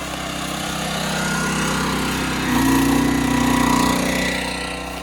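A water pump running steadily for a remote-area tree watering system, a loud continuous motorized drone that swells slightly midway and holds, with no talking.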